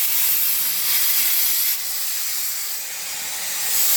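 Donkin steam steering engine running, giving off a loud continuous steam hiss with a slight drop in intensity partway through, alone without voices.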